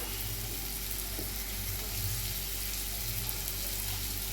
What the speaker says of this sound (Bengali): এই সেদ্ধ করা ডালটা দিয়ে দিচ্ছি